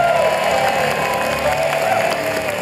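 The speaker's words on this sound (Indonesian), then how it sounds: "Tepuk tangan dong untuk tim Parawel dan juga tim Pandu." A game show studio audience applauds and cheers for the competing teams, a loud, continuous crowd roar with clapping and scattered whoops, close and unbroken.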